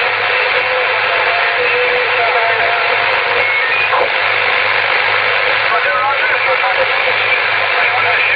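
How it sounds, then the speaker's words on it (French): A CB radio transmission on 27.625 MHz through a CRT 6900N set carries three faint, brief beeps in the background, buried under a constant loud hiss and hum. "Les trois bips qu'on entend derrière."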